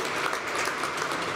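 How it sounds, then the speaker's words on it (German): Applause in a church during a Christmas Eve service, a dense continuous patter of many hands clapping, filling the space evenly with no voices over it. "Auch das ist einen Applaus wert."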